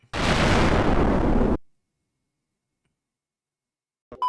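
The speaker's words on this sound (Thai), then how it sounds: "ภูเขาไฟระเบิดเ" A volcano erupting in the video game LISA: The Painful bursts out as one loud, roaring explosion lasting about a second and a half before dropping into silence.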